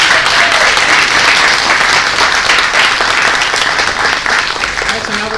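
A school audience gives loud, sustained applause for piano players at an Advent lessons and carols concert, thick continuous clapping with faint crowd voices mixed in.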